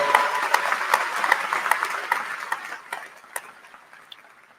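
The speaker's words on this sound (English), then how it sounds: "Give her a round of applause." At a university spring commencement ceremony, a large audience bursts into applause that thins and fades away over a few seconds.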